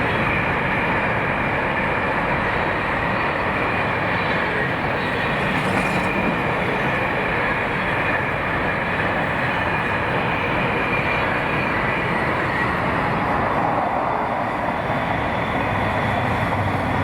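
Freight train 4S43, hauled by locomotives 88005 and 68005, passes continuously in the Clyde Valley, its steady loud rumble and wagon roar filling the whole stretch without letup.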